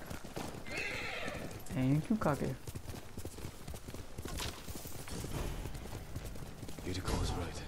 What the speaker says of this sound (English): Horse, I need you, horse.